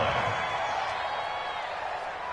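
Football video game stadium crowd giving a steady, broad cheer, a continuous wash of noise at moderate loudness with commentary talk over it.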